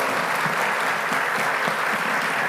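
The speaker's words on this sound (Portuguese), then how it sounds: "uma salva de palmas novamente, pessoal" An audience at a faith-and-science panel claps in a dense, continuous wash of applause, close and steady from start to finish with no voices over it.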